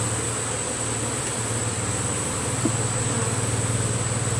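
Honey bees buzzing steadily during a beehive inspection, a continuous droning hum with a constant high whine running throughout, no voices.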